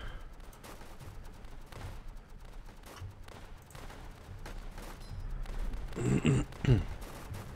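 Machine gun fire in the World War tower defense game Northend, a dense stream of rapid shots under battle noise that swells into louder bursts near the end.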